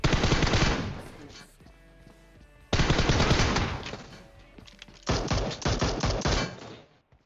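Bursts of automatic gunfire in PUBG Mobile: a dense volley, a lull with faint game sounds, then two more sustained bursts, loud and close throughout.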